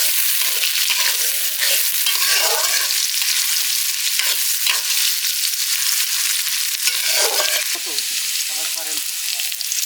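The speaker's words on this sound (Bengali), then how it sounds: "ঝাল পেঁয়াজের সাথে আলুটাও ছেড়ে দিলাম" Potatoes frying with chili and onions in a village pan, a loud steady sizzle with repeated scraping stirs close by throughout.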